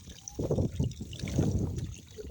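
Water trickles and splashes in uneven bursts as feet are washed, close by, with a few brief pauses between pours.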